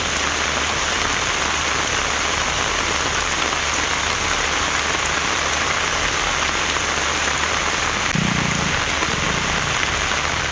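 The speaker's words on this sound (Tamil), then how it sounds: "பெய்த கனமழையால் வெப்பம் தணிந்தது" Heavy rain pours steadily in an outdoor setting, a dense, continuous hiss of drops on surfaces holding at constant loudness throughout, with a faint low rumble underneath.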